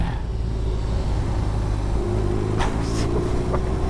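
BMW HP2 Sport motorcycle with an early boxer engine runs on the road, a steady loud low rumble with a droning engine hum, heard from the rider's position with wind noise and no speech.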